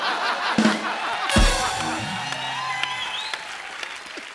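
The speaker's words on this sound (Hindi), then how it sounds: "आपने तालियां मारी ना अभी अभी" Studio audience on an Indian comedy talk show applauds and cheers, a broad clapping wash with a sharp burst near the start, then thinning under scattered sounds and faint voices.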